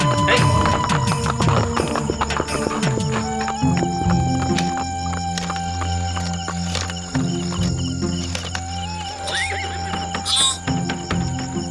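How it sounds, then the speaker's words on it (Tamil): A horse outside a police station neighs repeatedly and its hooves clop, in a Tamil drama scene. The whinnies and hoofbeats are loud and close, layered over sustained background music for about twelve seconds. "நம்ம ஸ்டேஷன் முன்னாடி ஒரு குதிரை வந்து ஒரே அட்டகாசம் பண்ணிட்டு இருக்கு சார்."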